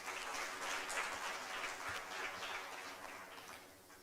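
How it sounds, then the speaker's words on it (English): An audience applauds at the Zuri Awards 2021 ceremony, a steady, dense wash of clapping that holds for the whole stretch and sounds somewhat distant and soft. "Let's clap again for Carol."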